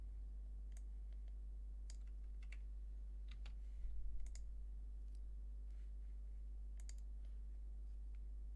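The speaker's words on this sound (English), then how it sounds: "Leo's just typing." Someone types on a computer keyboard off in the background, giving sparse, faint clicks and key taps in irregular bursts over a steady low electrical hum.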